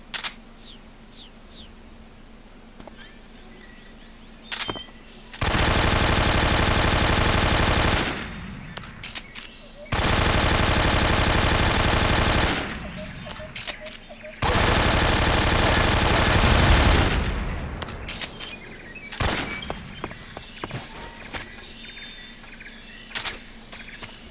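AK rifle gunfire in Metal Gear Solid 3, three long sustained bursts of automatic fire, each a few seconds, loud and close, separated by quieter stretches of ambient game sound and scattered clicks.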